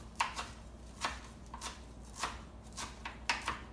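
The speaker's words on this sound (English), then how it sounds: "So let me just keep chopping." A knife chops fresh cilantro on a cutting board for shrimp ceviche, giving a steady series of crisp, evenly spaced thuds close up with no talking.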